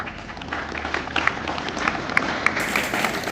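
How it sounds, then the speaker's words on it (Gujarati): Applause at a government school's Independence Day celebration in Bucharwada, a steady patter of many hands clapping at moderate distance with a few sharper claps standing out. "જોરદાર તાળીઓ"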